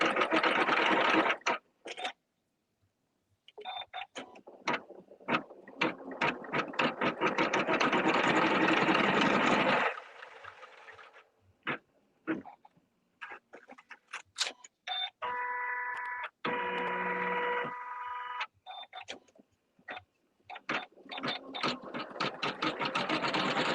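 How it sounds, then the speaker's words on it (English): A sewing machine stitches the stems of a winter greens piece at a workshop, running in several bursts of steady whirring with short pauses between, near and fairly loud. "now we're going to go ahead and stitch the stems"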